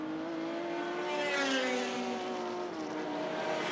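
Touring cars race at Lakeside circuit in the 1984 Australian Touring Car Championship, engines whining and rising in pitch as they pass at a distance, a continuous moderately loud roar.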